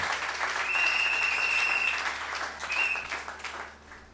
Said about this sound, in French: Acclamons pour ce message.